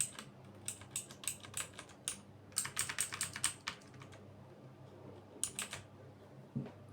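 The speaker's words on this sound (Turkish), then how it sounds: "Torima TK05 dediğim gibi güzel. Oyuncu klavyesi güzel yani." Keys clatter on a Torima TK05 mechanical gaming keyboard with blue switches, sharp clicky presses in quick bursts and runs, close up with pauses between flurries.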